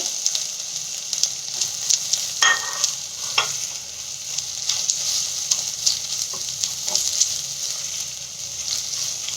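Ginger and spices fry in a pan for watermelon rind curry, a steady close sizzle crackling throughout with a couple of sharper stirring clinks, no speech.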